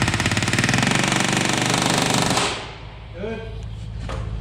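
A pneumatic rivet gun hammering rivets into an aircraft during a CAC Boomerang fighter restoration, a loud rapid rattling burst lasting about two and a half seconds, then stopping before someone speaks briefly.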